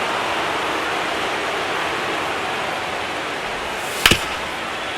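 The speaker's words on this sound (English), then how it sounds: "We are officially in a rain delay" Steady broadband rain hiss fills a baseball stadium in a video game during a rain delay as the tarp goes on the infield, constant and even, with one brief sharp crack near the end.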